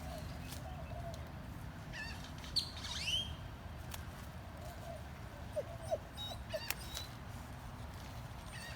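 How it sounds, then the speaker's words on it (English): A foster dog whimpers and cries faintly outdoors, a few short high whines spaced across the clip over a steady low background rumble, with a brief bird-like chirp early on. "Foster dog crying."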